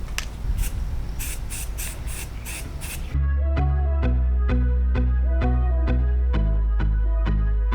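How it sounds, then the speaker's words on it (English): An aerosol can of primer sprays onto an old dresser in several short hissing bursts up close, then music with a steady beat takes over. "So let's get to spraying."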